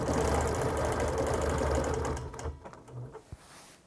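A quilting sewing machine stitching along a round ruler, a fast rhythmic mechanical whir that runs steadily for two seconds, then stops, followed by a few faint clicks and handling sounds.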